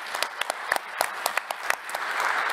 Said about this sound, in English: we probably need another round of warm applause for them